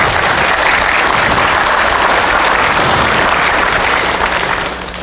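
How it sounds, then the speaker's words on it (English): A church congregation applauding to celebrate a wedding, loud, dense and continuous clapping that fills the whole clip and fades slightly at the end. "we want to celebrate that this morning with a round of applause"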